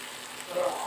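Ground spices and chili powder sauté in hot oil for a dhaba-style hilsa fish bhuna, giving a brief, steady close sizzle that swells slightly toward the end.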